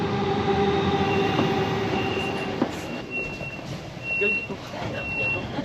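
A local regional train pulls in behind an Intercity at a German station, a steady low rumble of wheels and rail with a faint squeal, high beeping tones repeating near the end.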